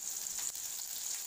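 Onion and dried red chillies frying in hot oil with popped mustard seeds, the start of a ridge gourd stir-fry: a steady, close, bright sizzle with no pauses.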